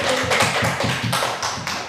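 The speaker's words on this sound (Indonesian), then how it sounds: "tepuk tangan untuk Bapak Ibu" A crowd claps in a quick, steady rhythm, about a dozen sharp beats in two seconds, close and loud with no talk over it.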